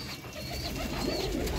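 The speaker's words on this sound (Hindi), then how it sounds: "ये ले जी दोस्तों जीरे कबूतर" A Jeere pigeon, a male kept by a fancier, gives low soft coos close by over a steady background hiss, with a faint thin tone running above; no speech.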